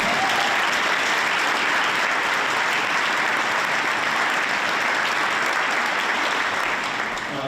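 A large concert audience at a state music festival claps continuously and loudly, a dense, sustained wash of applause with no breaks.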